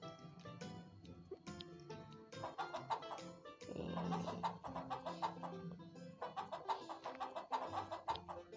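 Chickens cluck in a farming video game, repeated short clucks and calls in a busy, rhythmic pattern over light game background sounds, moderately loud and close.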